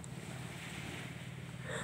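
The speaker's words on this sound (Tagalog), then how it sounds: "Ayan, tunog ng kanyang bangka." A small fishing boat approaches across the sea at night. A steady low engine drone blends with wind and water wash, with no talking.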